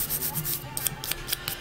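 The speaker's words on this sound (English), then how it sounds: "I'm just getting off a little bit of the excess dust that I have" Soft brushing strokes sweep loose nail-filing dust off fingernails before a top coat, a close, quiet run of light rubbing swishes with a few sharper flicks near the end.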